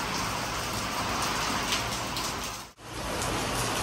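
Heavy monsoon rain pours down steadily as a dense, hissing downpour close by, briefly cutting out for a moment before resuming at full strength; no voices.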